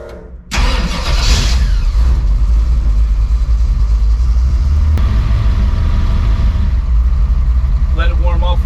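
A custom 1959 Ford F100 4x4 pickup engine cranks and fires after a brief pause, then settles into a loud, steady rumbling idle close by, with a short sharp sound midway and faint clatter near the end.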